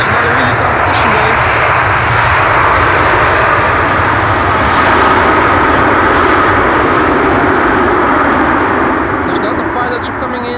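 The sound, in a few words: Delta airliner landing at Amsterdam Schiphol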